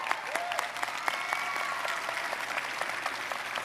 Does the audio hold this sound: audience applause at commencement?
yes